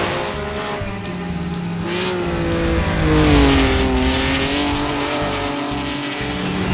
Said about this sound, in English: Just a little off-roading in our Maserati